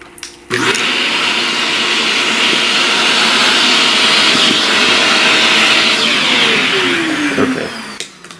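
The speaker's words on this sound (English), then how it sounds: "vacuum up some of this." A small vacuum cleaner sucks up pastel and eraser dust from a drawing, switching on abruptly with a steady, loud whirring motor drone that holds for several seconds before cutting off, with no talking.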